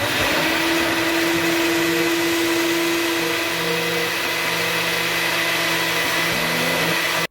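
A blender runs steadily at close range, a loud continuous whirring motor with a grinding hum that holds throughout, then cuts off abruptly.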